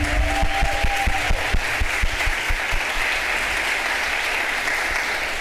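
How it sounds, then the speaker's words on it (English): Audience at the Bermuda Arts Council Awards 2023 ceremony gives a loud, sustained round of applause filling the whole stretch, dense clapping with a few cheers, close and steady. "Can we have one more huge round of applause?"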